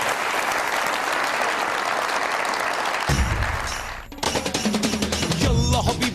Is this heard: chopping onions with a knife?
no